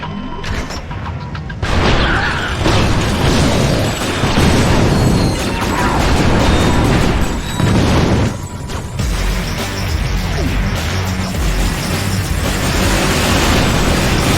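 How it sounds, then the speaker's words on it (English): Explosions and heavy weapon fire from the Ratchet video game form a dense, loud, continuous barrage of booms and crashes, with a few brief lulls, lasting throughout. "Oh, the explosion, the gunfire, the carnage!"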